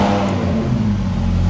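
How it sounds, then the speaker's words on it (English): Lamborghini Huracan exhaust roaring close and loud as the engine catches and revs inside a workshop, a steady deep growl filling the whole moment with no talk over it. "we're gonna hear this exhaust for the first time"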